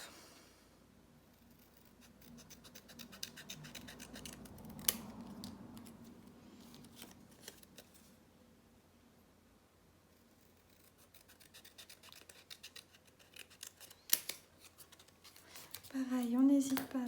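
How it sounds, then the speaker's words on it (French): Scissors snip and slide through paper while a paper napkin holder is made, quiet close crisp cuts in short bursts with some rustling and scratching. "On prend nos ciseaux"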